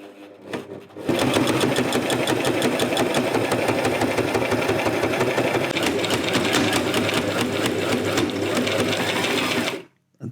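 Sewing machine stitching through a bag, running loud and fast in a continuous rattling whir for about nine seconds before stopping abruptly.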